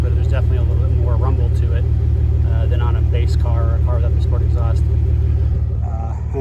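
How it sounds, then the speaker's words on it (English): Porsche Macan S with sport exhaust in sport mode, its gentle low burble rumbling steadily up close throughout while people talk over it. "pretty gentle burble. This is in sport mode."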